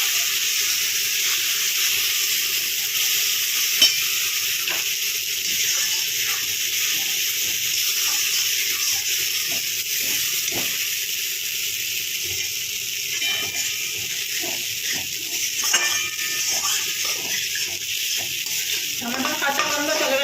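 Sliced green chili and tomato frying in hot oil in a home kitchen pan for a vegetarian dish, a steady close sizzle with occasional stirring scrapes and clicks running the whole time, no talk.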